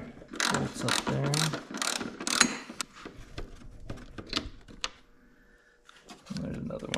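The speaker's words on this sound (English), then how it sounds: "Seems to be easier to get to with a little wrench, 10 millimeter ratchet wrench." A 10 millimeter ratchet wrench works on bolts near the radiator of a 1988-2000 Honda GL1500 Goldwing motorcycle, giving rapid clicking bursts up close, followed by quieter scattered metallic ticks.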